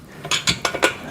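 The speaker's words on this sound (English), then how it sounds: "I'm going to put a washer on each point. And then a nut" Metal washers and nuts clink together in quick succession, four or five sharp close taps within about a second while a home pec deck and rear delt gym machine is being assembled.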